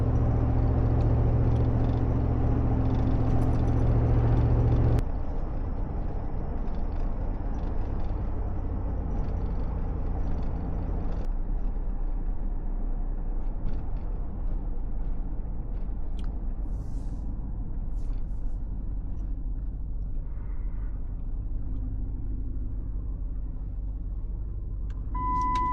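Noisy exhaust of a road vehicle, a loud rumbling engine drone that drops in level after a few seconds and continues as a steady low roar, with no talk.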